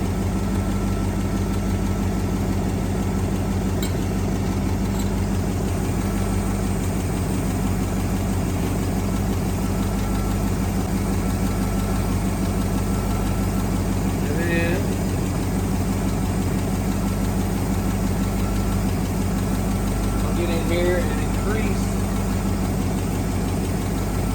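A 1963 AMC 287 V8 idles after warming up, a steady low rumble that holds unchanged throughout, close and loud, with a couple of brief faint sounds over it.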